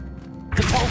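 The Accio summoning spell fires in the video game Hogwarts Legacy, a short whooshing burst with a thudding low impact that swells in suddenly after a quiet moment.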